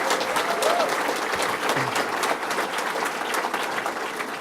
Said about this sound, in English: give Joe Sancho a round of applause